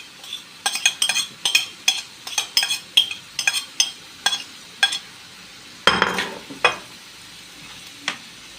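Grated onions are stirred into liver and gizzards cooking in a pan, giving a run of rhythmic, close scraping stirs and clinks over a faint sizzle, with one heavier scrape near the end.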